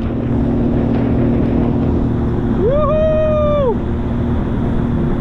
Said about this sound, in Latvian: Nu, tagad motors atkal ir pamodies.